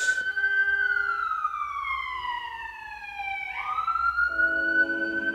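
A loud siren wails, its pitch sliding slowly downward and then sweeping back up, sustained throughout with no voices.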